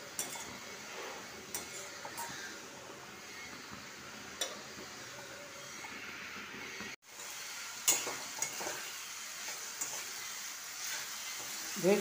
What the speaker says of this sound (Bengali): এবার মাছটা দিয়ে ভালো করে নেড়ে চাপা দিয়ে দেবো।